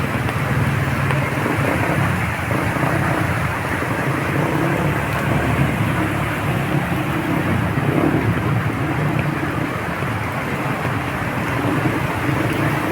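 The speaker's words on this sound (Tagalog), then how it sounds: "walang tigil na ulan ito yung nangyayari" Steady, heavy rain pours without a break in Pasig City, Philippines, during flooding, a dense broadband roar with a low rumble underneath and no voices.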